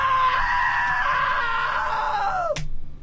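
A long, loud, close scream from a character in the video game What Remains of Edith Finch holds steady for more than two seconds, then slides downward and cuts off sharply, followed by a brief low thud.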